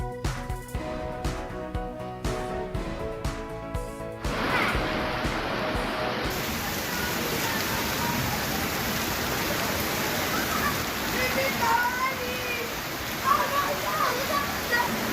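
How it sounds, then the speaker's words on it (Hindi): Rain falling steadily outdoors, a dense broadband hiss that takes over after a few seconds of musical tones, continuing evenly with scattered louder patter. "बारिश का सिलसिला जारी है।"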